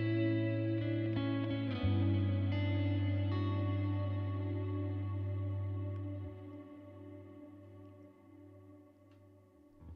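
An electric guitar chord rings through a Neural DSP Tone King Imperial amp plugin with its reverb set to infinite hold, a thick sustained shimmering wash that stays loud and then gradually fades away alone.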